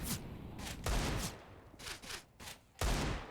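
Rapid bursts of gunfire ring out in a CS:GO esports match on Mirage, several sharp volleys separated by short gaps, mid-distance and fairly loud against the game's ambience.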